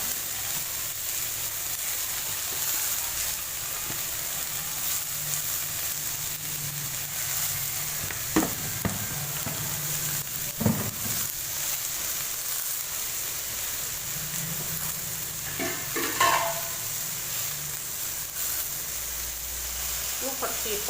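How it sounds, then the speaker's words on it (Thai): Masala for an Indian potato and eggplant curry is stir-fried in a pan, with a steady close sizzling hiss and a few sharp scrapes and clicks of the spatula. "เราปรุงรสแล้วผัดมาซาล่าให้เสร็จก่อน"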